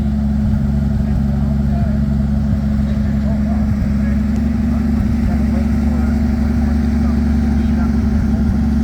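A Bombardier vehicle's engine runs at a steady idle in a shop yard, a continuous low mechanical drone with a faint rattle throughout, close and even in level.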